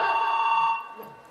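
A mobile phone ringtone sounds during a Chhattisgarhi nacha stage comedy performance, a brief bright electronic tone that fades out within a second, with no voices.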